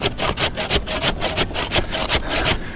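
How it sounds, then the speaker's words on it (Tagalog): Hand saw cutting tree branches outdoors in Edmonton, Alberta, a close, loud rasping rhythm of about a dozen quick back-and-forth strokes. "Effective yung lagari talaga, ano?"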